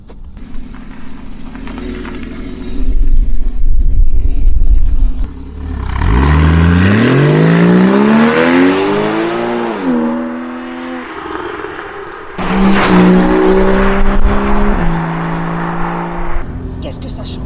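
A Porsche Cayman S engine revs hard several times, pitch climbing through gears with a throaty rising whine, loud and close, with people talking in between.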